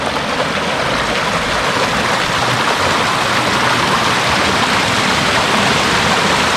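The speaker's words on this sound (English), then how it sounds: "See, here comes a creek." A creek pours over rocks at the top of a waterfall at Sweden Falls near Ponca, Arkansas, a loud, dense, unbroken rush of water close by, with no voices.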